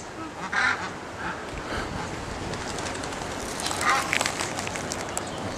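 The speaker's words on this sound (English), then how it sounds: "Oh, there's a big swan over there. Big narky swan across the river," A large, cranky swan calls from across a river or pond in the Australian outdoors, giving a few distant honking cries over steady open-air background noise.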